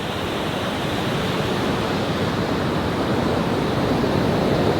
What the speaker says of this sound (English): The waves, they're coming in.